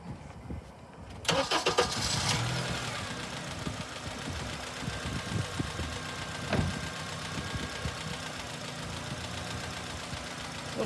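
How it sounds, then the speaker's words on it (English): A Honda Accord engine cranks and catches after a brief quiet moment, then settles into a rough, uneven idle with irregular knocks and rattles close by, no one speaking. "So I'm going to start the car again."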